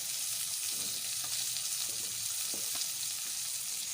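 Chopped tomato goes into a pan of frying cabbage, giving a steady, close hiss and sizzle with a few faint stirring scrapes, and no voices.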